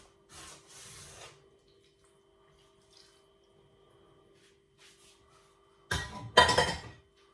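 Brioche dough being mixed by hand in a bowl after milk and dissolved yeast go in, giving two bursts of soft rubbing and slapping, a brief one early and a louder, busier one near the end, with quiet stretches between.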